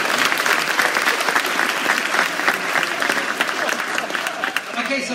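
A theater crowd applauds at a Beyond Fest Schwarzenegger double feature with an Arnold Q&A, sustained clapping filling the room for several seconds, loud and even, fading slightly toward the close.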